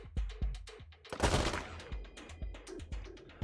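A character in the Wasteland 3 game fires rapid bursts of gunfire, punchy repeated shots in a quick rhythm, with one louder, noisier blast in the middle.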